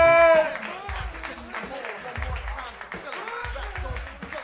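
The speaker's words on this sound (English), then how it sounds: "would you please start clapping your hands right now for Swoosh Broadman" Audience clapping at a roast battle comedy show, a broad wash of applause mixed with loud music and hype from the stage, voices talking over it throughout.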